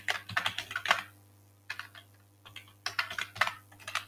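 Someone types a password on a computer keyboard, three short bursts of rapid, crisp key clicks separated by brief pauses, close and clear, with no voices.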